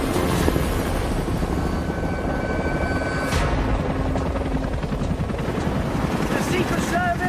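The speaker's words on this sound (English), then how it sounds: "This helicopter can only get me so far." A helicopter carrying the US president and Bear Grylls flies with a loud, continuous rotor thrum and engine whine, heard close and steady throughout.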